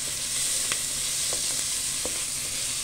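Diced carrot, zucchini, celery and turnip sautéing in a pot for soup, a steady close sizzle with a few light stirring taps and no voices.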